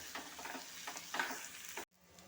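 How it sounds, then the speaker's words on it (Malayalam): Onions, soya chunks and potatoes being stirred and sautéed in a pan, with a soft sizzle and quick rhythmic scraping strokes that end in an abrupt cut to near silence. "നല്ലോണം ഇളക്കി വഴറ്റിയെടുക്കാം"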